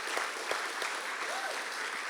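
An audience claps steadily through a school superintendent's talk on new school year plans. Dense, sustained applause with a few sharper individual claps stands out, at moderate loudness and without speech over it.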